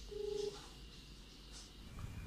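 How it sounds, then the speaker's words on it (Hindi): A single phone keypad tone from pressing 1 to skip a caller tune: one short, clear beep at the start, followed by quiet line hiss. "कीपैड खोलो, एक दबाओ, अपने आप कॉलरट्यून खत्म हो जाएगी।"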